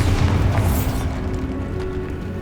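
A Bombarda blasting spell bursts in Hogwarts Legacy, with a loud, deep boom right at the start that rumbles and fades into a lingering low roar.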